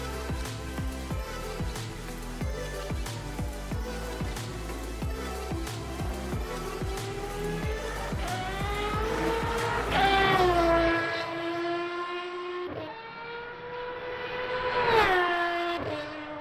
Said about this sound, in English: that V12 sounds absolutely stunning